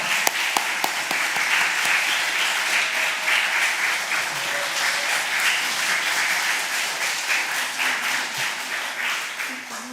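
A church congregation applauds during a pastor's installation service, a dense, sustained wash of many hands clapping that stays loud and even for the full stretch, with voices faintly mixed underneath.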